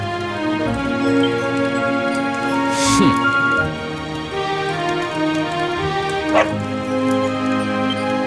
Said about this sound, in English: Ah! No! No! Not a dog! Anything but that!